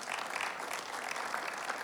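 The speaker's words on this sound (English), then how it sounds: "You should clap for that." Brief burst of audience applause at a careers event, steady clapping from a room of people lasting under two seconds.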